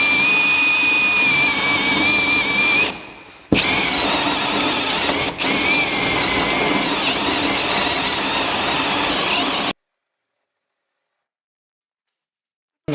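A step drill bit in a power drill bores wire holes through the hull of a duck boat during a light installation, whining loudly and steadily near at hand, with a brief pause and a short dip before stopping into silence.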